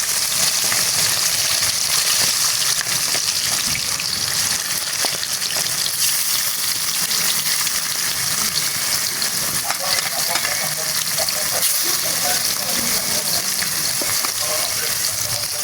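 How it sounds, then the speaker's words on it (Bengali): Chicken pieces frying in hot oil in a wok, a steady loud sizzle with stirring and spattering throughout, no talk. "মাংস ভাজার জন্য আগেই আমি তেলটাকে কড়াইয়ের মধ্যে গরম করে নিলাম।"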